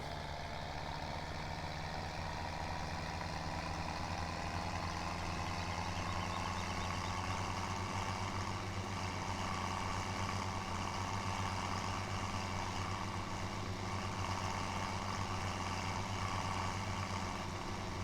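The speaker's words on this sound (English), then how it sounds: "we'll drive this tractor back to the farm here" A tractor engine drones steadily while driving in Farming Simulator 17, a low constant hum with a faint whine above it, moderately quiet and unchanging throughout, with no talking.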